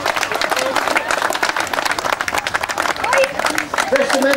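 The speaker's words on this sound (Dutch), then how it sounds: "Een hartelijk applaus voor deze schutters." Outdoor crowd at a King's Day event in a Dutch town applauding a group of marksmen, close and loud clapping that swells toward the end with a few voices mixed in.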